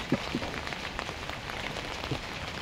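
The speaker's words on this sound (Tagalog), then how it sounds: "but it's raining" Rain pattering steadily on a surface in a garden, a soft even wash of drops with a few slightly louder taps, no voices.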